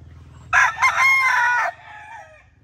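A seven-month-old White Kelso stag crows once, a loud, close cock-a-doodle-doo lasting about a second with a fading tail, over a low background hum.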